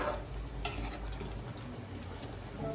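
Spoon stirring a bubbling vegetable curry of black-eyed peas, brinjal and potato in a pot, a steady soft simmering hiss with one sharp scrape of utensil against metal.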